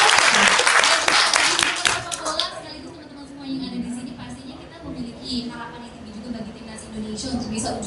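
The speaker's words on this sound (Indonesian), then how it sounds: "Boleh dong kita berikan tepuk tangan yang meriah." Applause breaks out at a press conference with a football coach, a brief crowd clap that fades within a few seconds under ongoing voices and murmur.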